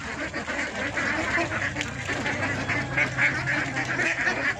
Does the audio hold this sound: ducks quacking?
yes